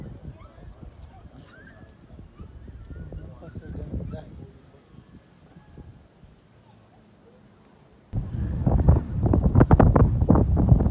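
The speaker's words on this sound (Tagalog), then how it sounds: "Hangin." Wind gusts buffet the microphone on Mount Kalugong in Baguio City with low rumbling noise, growing much louder and rougher in the final few seconds.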